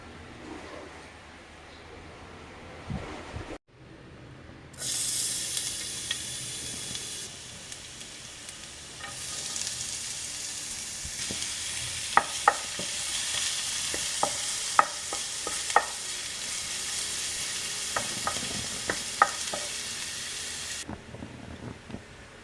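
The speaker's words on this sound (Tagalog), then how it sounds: "Meron din tayo ditong pork giniling at igigisa." Ground pork hits a hot pan and sizzles steadily for a long stretch, with frequent sharp scrapes and clicks of a spatula stirring the meat, loud and close.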